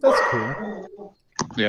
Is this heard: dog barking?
yes